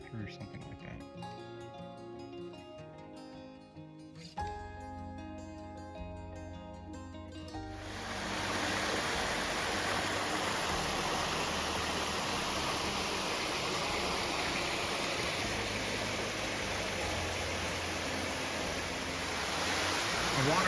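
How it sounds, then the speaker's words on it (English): A waterfall along a brook beside a hiking trail on the Appalachian Trail; the steady broadband rush of falling water swells in after several seconds and holds loud and continuous, following a brief stretch of quieter ambience. "A waterfall"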